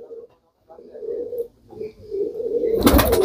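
Pigeons coo in low, throaty murmurs close by at a riverside near Jaipur and Tonk, ending in a sudden loud burst of fluttering as they take off.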